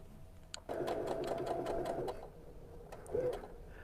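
A sewing machine runs in a short burst of rapid stitching, a whirring mechanical rattle that stops, then briefly starts again.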